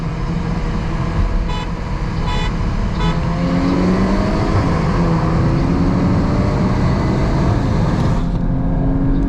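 Loud engines roar and rise in pitch as a Hyundai Elantra N and a Golf R accelerate hard in a drag race, with wind noise throughout and no talking.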